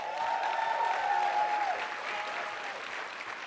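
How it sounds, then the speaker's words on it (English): An audience at an Avon Connect event claps in a sustained, even burst of applause, moderately loud and filling the room, with a faint voice or tone faintly audible beneath it. "Can I get a clap for that?"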